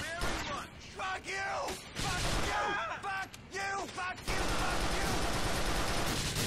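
Loud pistol shots and heavy gunfire in the game GTA 4: The Lost and Damned, mixed with yelling and shouted voices, then a sustained burst of dense shooting near the end.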